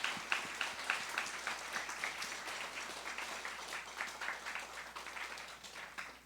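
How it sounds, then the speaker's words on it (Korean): A church congregation at a worship service claps together in sustained, even applause that carries on for several seconds, moderately loud and with no talking over it. "축복의 격려의 박수 한번 보낼까요?"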